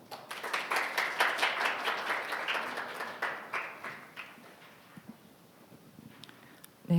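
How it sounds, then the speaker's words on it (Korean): Applause from a forum audience welcomes a speaker to the stage, moderate and fairly close at first, then thinning into scattered claps and fading out toward the end. "큰 박수로 환영해 주시기 바랍니다."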